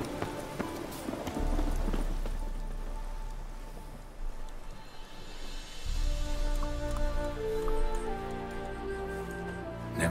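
Roach, the horse in The Witcher 3, clip-clops steadily at close range. Rain-like patter and game ambience sit beneath the hooves, with a rhythmic pause midway before the trotting picks up again.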